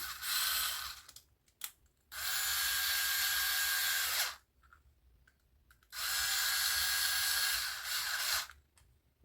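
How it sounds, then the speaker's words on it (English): Power screwdriver driving screws into a 3D-printed tracker node case, two long steady whirring bursts separated by quiet gaps with brief clicks and handling noises between them. "Now just run our screws in."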